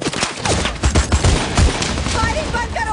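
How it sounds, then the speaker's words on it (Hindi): Gunfire crackles in a rapid burst of close, loud shots, sounding like a volley or automatic fire in an outdoor hunting setting, with excited voices shouting over and between the shots. "फायरिंग बंद करो, फायरिंग बंद करो।"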